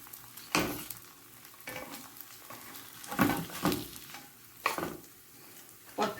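Tortilla bread flipped in a pan over a low flame, with a soft steady sizzle broken by several louder scraping, shuffling bursts as the bread is turned and moved, close up and without talk.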